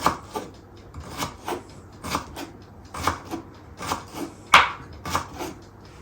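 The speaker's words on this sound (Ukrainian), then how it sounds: "Моркву можна е, натерти на тертку, а можна порізати шматочками, що я і роблю" A knife chops carrots into pieces on a wooden board in evenly spaced, close, crisp strokes with no talking.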